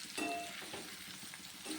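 Colocasia leaf vadi fries in oil on a tawa with a close, steady sizzle and light crackle, a few spatula stirs audible, and no voices over it.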